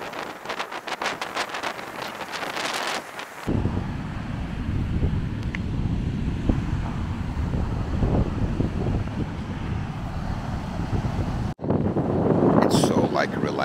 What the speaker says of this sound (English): Just the sound of the wind, the waves crashing.